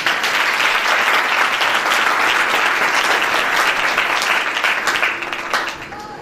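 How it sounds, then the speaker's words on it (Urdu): Loud, sustained applause from a church congregation, steady for about five seconds before beginning to fade. "پیارے یسوع کے لیے زوردار تالیاں."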